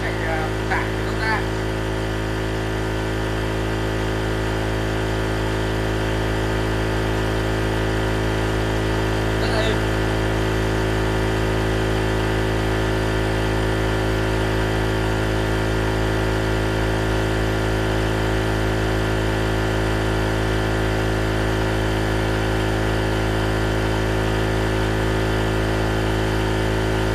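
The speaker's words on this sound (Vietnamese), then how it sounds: "Thì hiện tại là chiếc máy này chạy gần như mắt công suất đấy các bác." A Vinafarm 950W two-stroke mini portable generator runs under near-full load with a loud, constant engine drone that stays steady and unbroken throughout.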